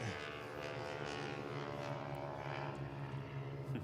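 Ford Trimotor aircraft engine and propeller, a loud, steady, continuous drone with a deep throbbing pulse that holds level throughout, close and without voices.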